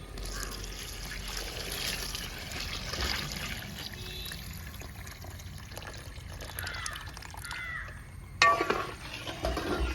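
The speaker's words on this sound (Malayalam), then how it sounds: "ഇനിയിപ്പോൾ നമുക്ക് അതിന് രണ്ടാം പാല് ചേർത്ത് കൊടുക്കാം." Second coconut milk poured into ada pradhaman payasam gives a steady liquid trickle and splash, close and moderately quiet, with a brief clatter near the end.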